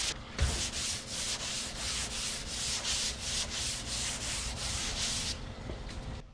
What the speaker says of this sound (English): I'd much rather sand primer with 150 than sit here with 40 grit or 80 grit blocking hard body filler